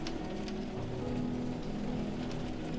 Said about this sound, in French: Arrivé sur notre île, il pleut comme c'est pas permis.